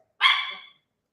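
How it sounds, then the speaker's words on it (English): A single sharp dog bark, close and loud, cutting off quickly into silence. "like the dog is barking"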